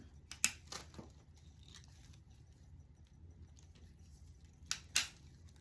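A few sharp snips of greenery stems being cut for a grapevine wreath, two clustered near the start and two more near the end, close and quiet with a soft background hush.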